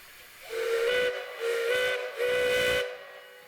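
A Lima five-chime steam whistle from Sierra Railway No. 3, with an out-of-round steam admission slit that lets only a couple of notes sound, blows three loud hissing blasts in a row, each with a steady chord and breathy steam.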